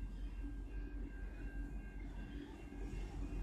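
Steady low rumble and rolling noise from inside a V/Line passenger train hauled by an N-class locomotive, with a faint tonal whine above a constant, fairly quiet wash of track and carriage sound.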